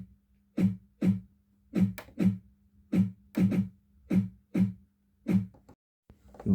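Sharp dancehall-style claps are layered over a low sustained tone in an Afro dancehall beat. They hit in a syncopated pattern of single and doubled claps, crisp and punchy, with no other instruments.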